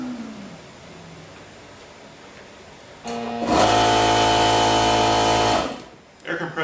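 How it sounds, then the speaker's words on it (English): Air compressor starting on a cheap eBay power inverter through long extension cords: after a quiet stretch, a motor kicks in and runs with a loud buzzing drone for a few seconds, then cuts off, with some speech around it. "Air compressor struggled to start a little bit."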